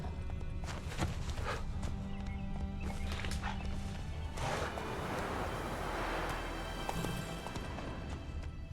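Horse galloping in the Witcher 3 video game, a steady run of hoofbeats with a rushing, noisy surge midway, loud and continuous with game ambience beneath.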